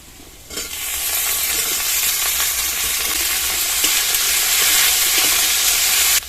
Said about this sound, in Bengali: এবার এর মধ্যে ভেন্ডিগুলো দিয়ে ভেজে নেব।